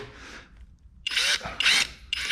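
Power drill boring holes into a wall to mount a shelf, three loud bursts of a few tenths of a second each after a quieter one, close by, separated by short pauses.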